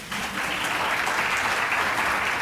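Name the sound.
applause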